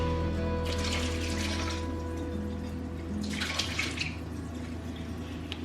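Excess water poured out of a container into a sink comes in two splashy bursts a couple of seconds apart, close and moderately loud over a steady background hum.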